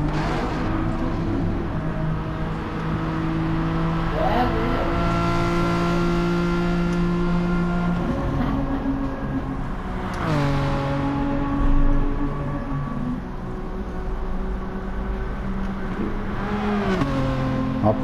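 A Nissan 350Z's VQ engine racing in Gran Turismo Sport, a Gr.4 car on the Dragon Trail circuit, droning steadily and climbing in pitch through the gears with clear shift drops, loud and continuous with no voices.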